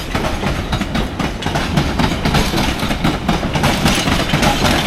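A London Underground Piccadilly line train rumbles steadily and loudly with rhythmic wheel clatter over the rails, a dense continuous noise that stays constant throughout.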